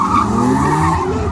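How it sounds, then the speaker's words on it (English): A modified Toyota GT86 drift car skids at a racecourse motor show, a loud, close tire squeal with engine roar lasting about a second, with no voices. "Yogi's car here, this beautiful PH Drift GT86 is modified, but it's nearly a road car."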